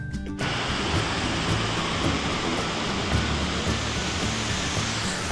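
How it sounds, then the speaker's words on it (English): A waterfall at the top of a hiking trail in Oregon roars as a loud, steady rush of falling water that fills the whole scene without pause. "at the very top, there's a waterfall."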